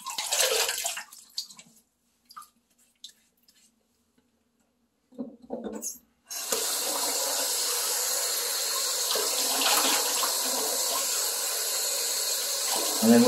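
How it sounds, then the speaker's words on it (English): Hot tap water running into a sink to wet the face before shaving; brief splashes and drips first, then a steady gushing stream from the faucet that carries on to the end. "Wet the face, first with hot water."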